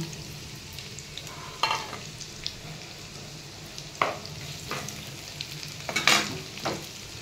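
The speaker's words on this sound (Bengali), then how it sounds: "ওই তেলটার মধ্যে পেঁয়াজ রসুন একটু ভেজে নিব।" Onion and garlic frying in oil for a Bengali beef curry, a steady close sizzle with a few sharp scraping stirs spaced through it and no talk.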